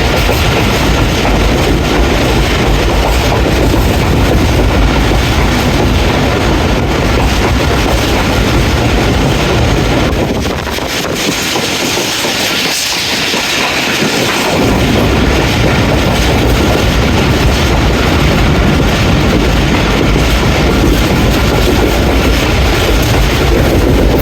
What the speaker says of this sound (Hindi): 8:20 बुरहान रेलवे स्टेशन से पास थ्रू हो रही है 40 टाउन जाफ़र एक्सप्रेस